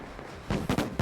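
Firecracker bursts in the competitive asymmetric horror game Identity V, a qualifier match: four sharp crackling pops in quick succession after a low ambient background, loud and close, with no talk.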